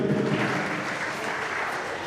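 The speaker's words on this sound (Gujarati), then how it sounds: "તાળીઓનો અવાજ તો આવવો જોઈએ." An audience at a community gathering claps in sustained, dense applause, loud and close for the short stretch with no pauses.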